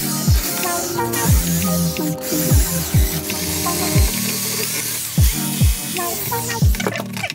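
A power drill works through plastic rivets on a car door panel in short repeated bursts, each spinning up and winding down, with mechanical rattling and scraping between them.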